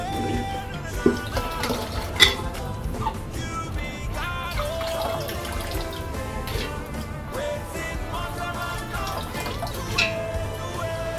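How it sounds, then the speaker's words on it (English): Water splashes and drips inside a metal pressure cooker as beans are rinsed and stirred, a continuous wet sloshing with occasional clinks, close up. "I now start washing it into my pressure cooker."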